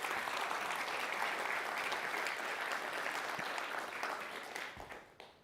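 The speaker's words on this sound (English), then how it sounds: "Let's give them a round of applause" Audience applause closing a talk on AI integration in engineering teams, a dense steady wash of clapping that holds for several seconds, then thins and tapers off at the end.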